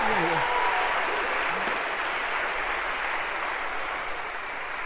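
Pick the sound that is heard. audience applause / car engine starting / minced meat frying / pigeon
audience applause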